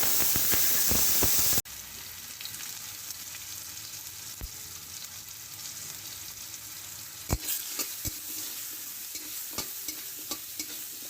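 Food fries in a pan with a steady hiss and crackle, while a utensil stirs in frequent short scrapes and taps; a louder wash of sound in the opening moment drops off abruptly.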